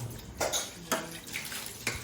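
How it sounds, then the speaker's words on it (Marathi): Dishes being scrubbed by hand at a sink with running water, with several bursts of splashing and clattering spaced out over steady faint water noise, close by. "आमची दीदी भांडी घासत बसली आता"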